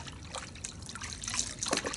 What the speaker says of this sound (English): just agitating the water manually, it is producing quite a bit of suds already